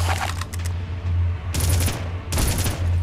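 Gunfire in the video game Red Faction comes in two loud, sustained automatic bursts separated by a short gap, with rapid rattling shots over a low machine hum.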